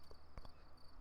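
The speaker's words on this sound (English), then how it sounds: "There's crickets." Crickets chirp at night in a horror video game, a faint, thin, steady trill in the background with a couple of soft knocks.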